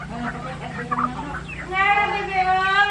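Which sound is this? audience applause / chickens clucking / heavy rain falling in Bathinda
chickens clucking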